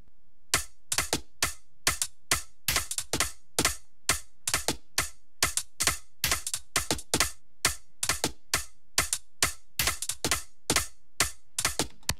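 Crisp percussive hits in a steady repeating pattern, sharp transients with bright tops, playing alone for the whole stretch with no voices.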